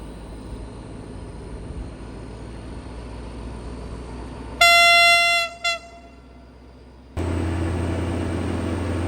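A heavy freight train hauling goods wagons climbs a steep grade through a mountain pass, its engine roaring steadily and loud, with a sharp tonal horn blast midway before the heavy rumble resumes.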